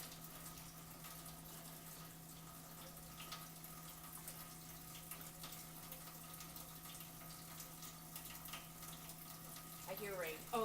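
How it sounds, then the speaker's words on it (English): Tap water runs steadily into a sink in a kitchen, a faint continuous hiss with a low hum under it, and a brief louder sound near the end. "I have the water going."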